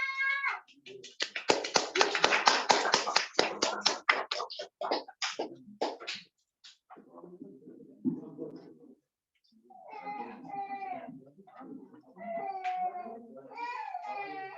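A crowd at an Indonesian literary tribute gathering claps in a brisk burst that thins out after a few seconds, and a voice then speaks alone.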